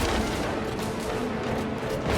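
In the video game Space Marine 2, a frag grenade blast mixes with a continuous roar of gunfire, dense and loud from start to finish with no pauses, and no voices over it.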